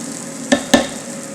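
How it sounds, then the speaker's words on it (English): Rice is toasted in extra oil for mushroom risotto, giving a steady close sizzle under two sharp utensil taps against the pan, with no voices. "I added a little extra oil, so our rice will toast off here, nice and flavorful"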